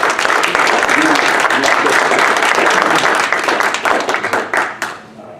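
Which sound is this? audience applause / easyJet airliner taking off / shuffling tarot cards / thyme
audience applause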